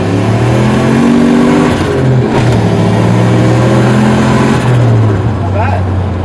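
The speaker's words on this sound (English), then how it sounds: "I'm going to try and do a pull in second, see how these tyres hold" An LS1-powered turbocharged car pulling hard in second gear, the engine note climbing loudly and steadily up through the revs, close and inside the cabin, with road and wind noise.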